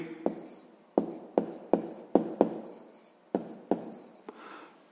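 A pen scratches across paper while a sixth-grade math exercise is worked out, giving a close series of sharp strokes and taps with short pauses and a softer scribble near the end.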